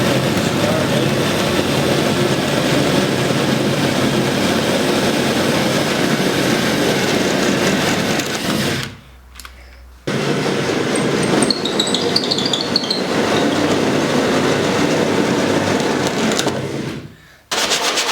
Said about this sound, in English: we've got a 3/4 inch hole drill bit on here